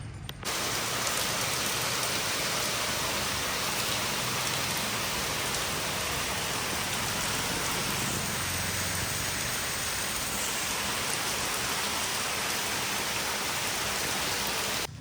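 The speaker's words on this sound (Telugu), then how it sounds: "4 hours నుంచి వర్షం పడ్డది." Heavy rain falls steadily for hours, a dense unbroken hiss of drops on surfaces, constant and moderately loud throughout with no voices.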